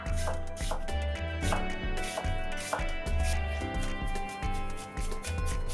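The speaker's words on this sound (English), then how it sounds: "I'm going to take 1/8 of an onion. I'm going to peel it and mince it on up." An eighth of a peeled onion minced with a knife, quick repeated chops on a board in a fast, steady rhythm, close and distinct over a humming music-like background with no speech.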